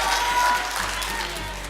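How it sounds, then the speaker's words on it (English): Audience applause for a speaker at a testimony event, moderately loud scattered clapping that gradually thins out over a couple of seconds. "Give Abelardo a big round of applause."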